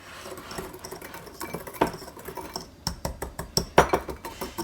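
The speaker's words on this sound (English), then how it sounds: "I'm going to mix these up in our small bowl. I grabbed my wire whisk." A wire whisk beats ingredients in a small bowl for pumpkin pie, producing rapid, rhythmic metallic clinks and taps that grow sharper and more regular toward the end, close and clear with no voices.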